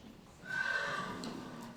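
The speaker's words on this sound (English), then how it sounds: "Hark, I hear horses." Horses neighing in a school stage production of Macbeth, a single loud close whinny rising and trailing off over a soft background hum, no speech.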